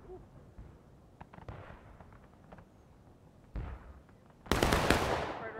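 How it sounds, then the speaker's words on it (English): A ragged musket volley from a line of 9th Corps infantry in War of Rights, a Civil War game, opens with scattered distant pops and ends in a loud, dense burst of fire, with no talk. "9th Corps doing a little pop volley"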